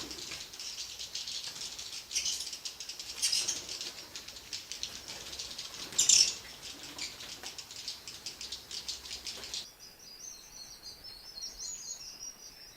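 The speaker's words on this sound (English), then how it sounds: "They are gregarious and social birds in these nesting colonies." Indian swiftlets calling in a nesting colony, a faint, dense chatter of high twittering and clicking with a few brief louder bursts, heard alone with no talk.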